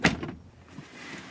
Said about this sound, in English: Cannot emphasise how heavy that door is.